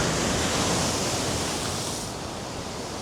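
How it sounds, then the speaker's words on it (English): Big sea waves crash with spray, a loud, dense roar of surf filling the air and easing slightly toward the end. "I just see that big waves down there."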